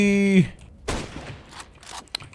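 Gunfire in Counter-Strike: Global Offensive, a short cluster of sharp shots following a brief tonal sound, then a few softer scattered hits.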